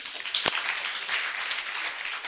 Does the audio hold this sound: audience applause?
yes